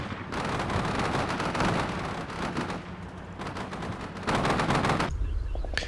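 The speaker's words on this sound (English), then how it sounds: "The Lavs are continuing to put machine gun fire into every building that stands in the way of the Canadian advance." Sustained machine gun fire from Canadian LAV armoured vehicles raking buildings in the Combat Mission Shock Force 2 war game, loud rapid bursts rattling almost continuously with brief gaps, then a heavier rumbling burst at the close.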